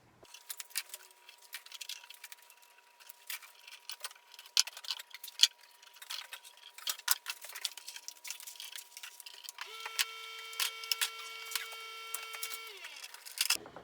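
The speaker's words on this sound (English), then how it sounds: "So now we're just going to take off the clamps" Metal clamps being loosened and removed from a glued-up wooden desktop made of 2x3 boards; scattered clicks, ticks and light metallic rattles at irregular intervals, close and fairly quiet, with a faint background hum and no talking.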